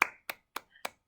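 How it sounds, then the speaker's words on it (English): A few single hand claps for the winners of an Ozobot robot race on a Rainbow Road track, four crisp separate claps spaced about a quarter second apart, close and alone. "So let's all give a round of applause to our winners"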